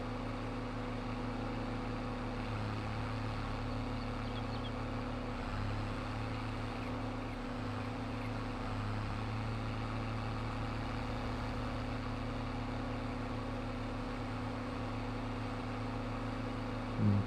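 A Steiger tractor engine drives steadily in Farming Simulator, a constant low, humming drone with stable tones, moderately loud and unchanging throughout.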